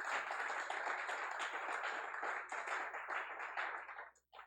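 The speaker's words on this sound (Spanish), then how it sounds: "Dele fuerte el aplauso al Rey" Applause from a church congregation during a sermon, dense steady clapping at a moderate distance that fades out abruptly near the end.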